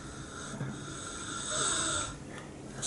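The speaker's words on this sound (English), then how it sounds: "Sounds like you're snoring." Snoring-like breathing sounds rise and fall for a few seconds at a moderate level in a quiet indoor setting.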